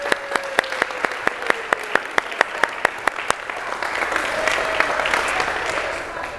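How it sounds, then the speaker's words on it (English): A group at a workshop session starts with a few sharp, rhythmic single claps, then swells into broader, looser applause from many people that continues to the end. "applause, everybody."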